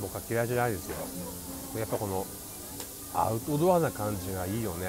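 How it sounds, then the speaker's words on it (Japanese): Cicadas drone steadily in the outdoor China Voyager dining area at Tokyo Disneyland on a hot summer day, a continuous high buzzing hiss beneath someone talking close by. "このセミの声とかもね、 本物のセミなのか仕込みの音かわかんないけど、"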